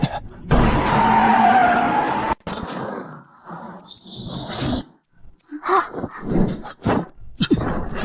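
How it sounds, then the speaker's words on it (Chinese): Car in an animated post-apocalyptic road drama skidding with a loud tire screech for about two seconds, followed by scattered bursts of engine noise and effect sounds at close range. "阿吉，过来控方向盘，踩死油门，别松脚。"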